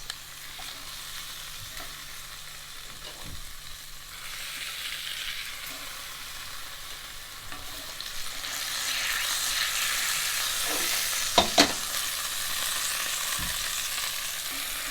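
Bone-in veal sears in a cocotte pot with a steady, crackling sizzle. The sizzle swells louder partway through, and a few sharp clacks of handling or turning the meat are heard. There is no speech.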